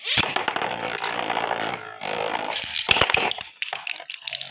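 Two Beyblade spinning tops clash in a battle, giving harsh, buzzing metallic whirs and scrapes in loud bursts separated by short pauses, close up.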